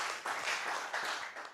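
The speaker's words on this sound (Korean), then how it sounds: "다 같이 박수합시다." A church congregation at a revival Sunday service breaks into applause, a dense wash of many hands clapping together, fairly faint and brief, swelling in a couple of waves.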